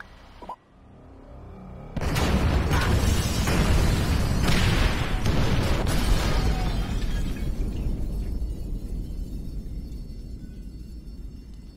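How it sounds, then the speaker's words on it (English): Incendiary explosives detonated during a bureau raid in GTA 5, a loud sudden blast followed by shattering debris and a long roaring, crackling rumble that slowly fades over several seconds. "Detonate the incendiaries, Frank."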